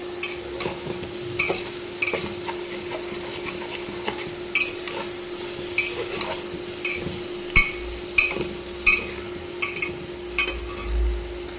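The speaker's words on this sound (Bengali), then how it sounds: "সব নেড়ে চেড়ে একটু ভেজে নেব তারপরে জল দিয়ে দেব" Rice, lentils and vegetables for a dry-style khichuri are stirred and fried in a pot, with a steady sizzle under repeated metal spoon scrapes and knocks against the pan. Several louder strokes come late, and nobody speaks.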